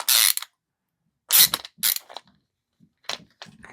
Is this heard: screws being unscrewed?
yes